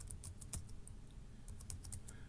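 Rapid keystrokes on a computer keyboard as a web address is typed, a quick irregular run of quiet clicks close by.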